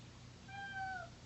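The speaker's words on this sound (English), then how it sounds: "That's my cat making noise." A pet cat lets out a single drawn-out meow, faint and fairly close, over a quiet room hum.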